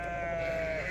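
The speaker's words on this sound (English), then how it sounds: "Got the sheep here." A single sheep bleats in one sustained, close, wavering cry lasting about a second.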